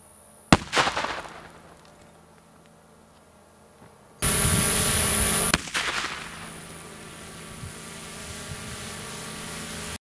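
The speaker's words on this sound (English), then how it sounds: "The first charge did go off," An improvised thermobaric grenade built from an aluminum can with a solid fuel core detonates outdoors, a sharp loud blast followed by a roaring burst of broadband noise and a lingering hiss, preceded by an earlier sharp crack.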